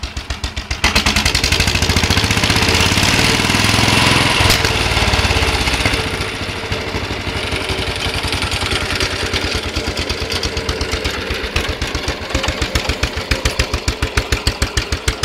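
An old tractor engine with a slightly blowing head gasket revs hard and loud up close, then drops back to a lumpy idle with distinct rhythmic chugging pulses.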